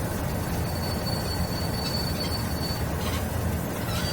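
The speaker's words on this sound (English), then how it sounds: "Another train going by there." A passing train in the Train Simulator 2016 game rumbles steadily with broadband rolling noise and a thin high squeal of wheels, continuous and fairly loud throughout.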